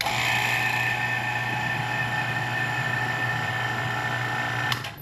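A vacuum pump bleeding a motorcycle suspension component runs with a steady, loud mechanical drone and high whine, continuously, then dips slightly near the end.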